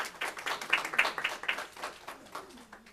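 Light, scattered clapping from a small audience at a youth council meeting, a handful of distinct claps rising and then thinning out, fairly quiet and close.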